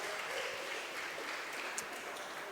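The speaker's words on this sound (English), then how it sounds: "Round of applause for everyone taking part." Steady applause from a crowd follows a Saturday pub quiz, a continuous moderate patter of many hands clapping at a modest distance.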